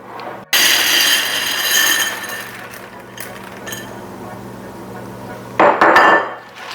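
Pastry tart shell slid into an oven for blind baking, giving a loud metallic rack scrape and clatter up close, a quieter stretch of faint clinks, then a second brief burst of metal rattling as the rack or door moves.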